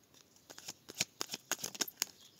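Tarot cards shuffled and drawn from a deck, giving a quick run of crisp papery flicks and snaps that cluster into short bursts, close and fairly quiet, with no talk.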